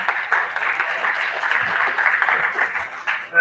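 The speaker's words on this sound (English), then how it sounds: "Big round of applause for Ben" Moderate audience applause for a panel speaker at an agtech event, a steady spread of clapping at middle distance lasting a few seconds.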